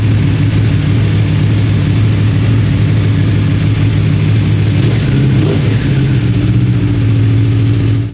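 Aprilia RSV4 motorcycle fitted with a long Akrapovic muffler revs steadily on a dyno, a loud, close, continuous engine drone holding a deep even tone with a brief throttle blip midway.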